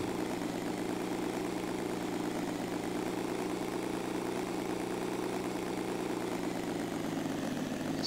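Motorcycle engine in the video game PUBG, a steady droning motor hum held at constant pitch for the whole stretch, fairly quiet, with no talking.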